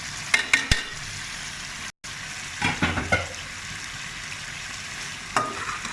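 Chicken karahi with coarsely ground cumin and red chilli frying in a pan, a steady low sizzle with several sharp clatters from stirring near the start and again around the middle and end.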